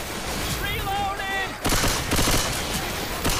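A person talks briefly, then a rapid burst of video game gunfire breaks out, with several sharp shots in quick succession at a loud, close level.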